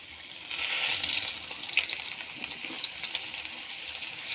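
Food fries in a pan with water added, giving a bright, steady sizzle with soft crackles that swells early and then holds at a moderate level.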